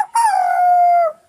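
A comedian's voice imitates a dog howling in one single drawn-out howl of about a second. The howl is close and loud, rising briefly and then sliding slowly lower before it fades.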